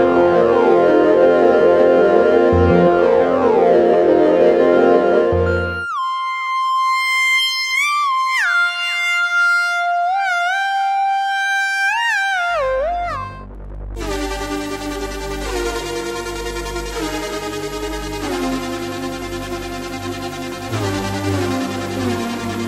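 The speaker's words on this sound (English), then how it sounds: "This is an exploration in a vintage" Demo of the UVI UVX80 software instrument, an emulation of a vintage Japanese synthesizer. Loud polyphonic synth parts with gliding tones, a sparse lead passage in the middle, then dense chords with bass, playing continuously without speech.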